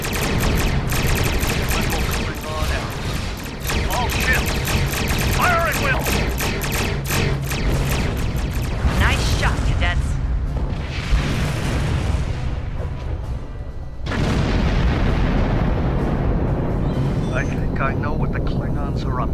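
Starship weapons fire and explosions in Star Trek Online: a dense, continuous barrage of rapid shots and booming blasts, briefly dropping near 14 seconds before resuming, with voices talking over the battle.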